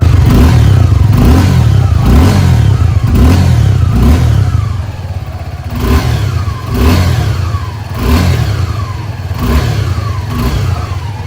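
A 2024 Suzuki Gixxer SF 250 motorcycle revs through its exhaust, rising in repeated throttle blips over a steady idle, loud and close with no voices.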